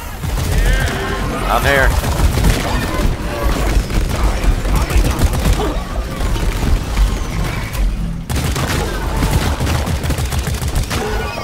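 Rapid gunfire, shotgun blasts and explosions in the co-op video game Deep Rock Galactic while fighting swarms of bugs, dense and continuous and loud, with players talking over the combat.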